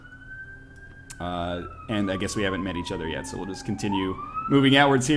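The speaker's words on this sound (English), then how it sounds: "And apologies for that police siren," A police car siren wails and sweeps in rising and falling tones close by, running continuously beneath someone talking casually throughout.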